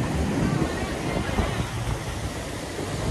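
A boat moves over clear sea water near Coral Island, Thailand, giving a constant broadband rush of wind and splashing water that stays loud and even throughout.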